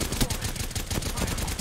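Loud, rapid automatic gunfire from a weapon in the Apex Legends battle royale game, a dense continuous burst of shots lasting about a second and a half, close and harsh in the mix.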